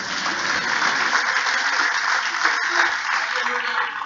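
Church congregation clapping in a steady, continuous wash of many hands, loud and even throughout, with a faint murmur of voices mixed underneath.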